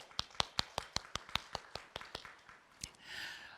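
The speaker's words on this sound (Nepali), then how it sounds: "आउनुहोस् हामी ताली बजाएर हाम्रा जवानहरूलाई हामीले धन्यवाद भन्नेछौँ" A church congregation claps along at a Christmas celebration, about ten sharp, evenly spaced claps in a quick steady rhythm that fade out, followed by a soft rustle.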